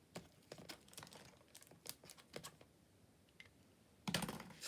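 Small snips trimming a paper image for a handmade card: a quiet series of close, crisp clicks and snips at an uneven pace, ending in a slightly louder rustle of paper.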